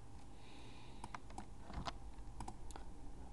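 A computer keyboard clicks as a title is typed into a field box, giving scattered, uneven bursts of light keystrokes over a low steady hum.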